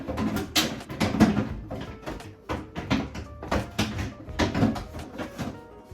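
A plastic refrigerator drawer is slid back into a fridge during cleaning, giving a series of close, loud knocks, rattles and scraping clatters spread across several seconds with no talking.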